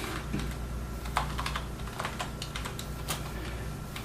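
Computer keyboard keys are tapped in a quick, irregular run of close clicks over a low background hum while settings are typed into a motherboard BIOS menu.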